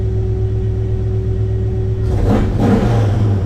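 A 1987 Chevrolet Suburban engine fitted with ACES Killshot EFI idles steadily at close range with a loud, even rumble, then briefly revs up and settles back into a rough, wavering idle, with no voices.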